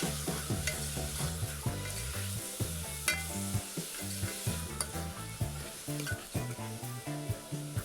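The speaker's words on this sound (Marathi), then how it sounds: "ते छान असे परतून घ्यायचे तेलावरती." Five or six finely chopped onions frying in oil while being stirred, a dense continuous sizzle with rhythmic scraping and clanks of a spoon against the pan, close and steady.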